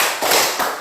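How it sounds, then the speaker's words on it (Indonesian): Two loud, close hand claps in a children's clapping song, sharp broadband bursts spaced about a third of a second apart, with no voices over them. "Kalau kau suka hati tepuk tangan"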